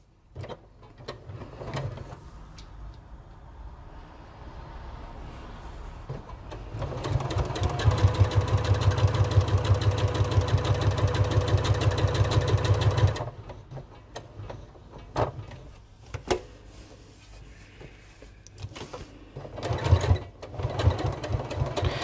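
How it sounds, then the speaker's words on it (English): A sewing machine runs steadily for several seconds, top stitching a sew together bag an eighth of an inch from the edge at stitch length 3, with quieter handling and fabric sounds before and after. "we're sewing top stitching 1/8 of an inch away"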